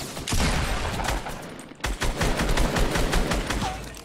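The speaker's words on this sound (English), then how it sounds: "Now I'm gonna just go snipe this guy in the face" Gunfire in a Fortnite Battle Royale match, a dense run of sharp, loud shots cracking in quick succession with one brief lull, no talking over it.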